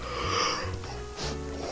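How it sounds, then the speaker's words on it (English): A person yawning close to the microphone, a drawn-out breathy exhale with a low voiced groan that swells, eases and rises again. "I need to yawn."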